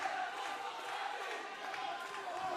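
A crowd at a PFL bantamweight title main event roars and cheers steadily in the distance, a broad, unbroken wash of noise without clear breaks.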